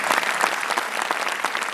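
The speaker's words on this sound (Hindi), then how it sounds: "आप उनको एक बार उन सब तालियों के बराबर मिलाकर ताली बजाकर दिखा" Audience at an Urdu mushaira poetry gathering bursting into loud, sustained applause, dense rapid clapping from a large crowd filling the whole stretch without any voice over it.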